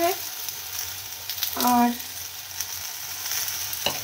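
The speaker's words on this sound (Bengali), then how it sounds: "5 ফোড়ন শুকনো লঙ্কা দিয়ে আমরা একটু কুলগুলোকে ভেজে নেব" Jujubes (kul) frying with panch phoron and dried red chilies, a steady close sizzle with a brief stirring clatter partway through and a voice speaking briefly.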